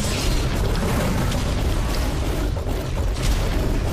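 A rocket blast in the video game Ark, a dense, rumbling boom that fills the whole clip at steady loudness, with no talk over it.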